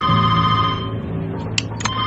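A telephone ringing in a tense office standoff, a steady electronic ring tone sustained for about a second before fading, followed by two short sharp beeps near the end, fairly loud and close.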